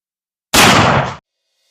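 A single loud, close gunshot from a 10mm Interceptor loaded with black powder, one sharp blast with a short ringing tail that cuts off after about half a second, in open outdoor air.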